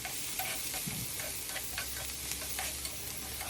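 Egg masala with salt and turmeric fries in a pan, giving a steady close hiss with soft stirring clicks and scrapes throughout.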